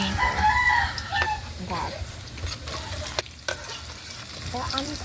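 Garlic and onion sauté in a pan with a steady close sizzle and stirring scrapes, while a rooster crows in the background.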